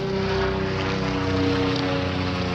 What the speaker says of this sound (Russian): Вертолет военный